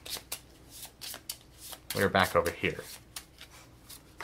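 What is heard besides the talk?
shuffling cards for The 7th Continent board game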